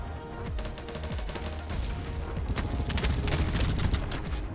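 Dense automatic gunfire from the Val rifle in BattleBit Remastered, rapid rattling bursts running continuously and loud throughout, growing heavier toward the end with layered shots and mechanical clatter.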